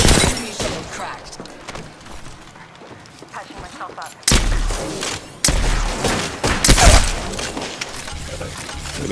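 Gunfire rattles in the video game Apex Legends in sharp bursts and heavy booms that grow denser in the second half, mixed with game effects.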